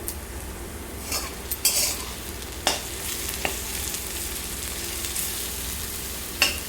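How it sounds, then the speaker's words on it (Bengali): Fenugreek leaves are dry-fried in a pan, giving a soft, steady sizzle. A utensil stirs and scrapes through them, with occasional sharp clinks against the metal. "মেথি শাক দেওয়ার পরে আমি মেথি শাকটা একদম শুকনো শুকনো করে ভেজে নিব"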